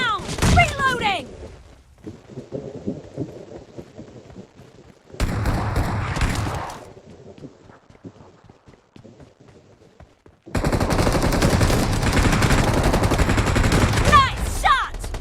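Shotgun fire rings out in a mobile shooter game, with loud blasts in separate bursts. Quieter gaps fall between them, and a long heavy volley of gunfire closes the sequence. Game voice lines are mixed in.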